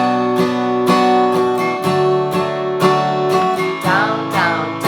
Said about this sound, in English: The strumming pattern is a little bit more punchy, so we're going to start with 3 down strums.